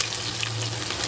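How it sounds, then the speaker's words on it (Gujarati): Onion hits hot oil and sizzles, a dense, steady crackling hiss that fills the brief moment with no voice over it. "સૌથી પહેલાં આપણે એમાં નાખીશું ઓનિયન"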